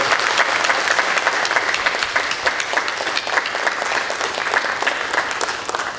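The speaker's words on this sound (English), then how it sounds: "Let's give him a hand of applause." Sustained audience applause fills a graduation ceremony for a whaling museum's apprentice program, dense steady clapping from a large crowd lasting throughout without speech.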